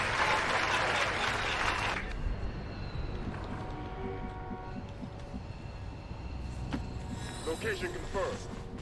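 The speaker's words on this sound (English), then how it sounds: "Oh, they're clapping." Crowd clapping and cheering in the video game XCOM 2, a dense burst of applause at the start that fades into game ambience, with brief chimes and tones near the end.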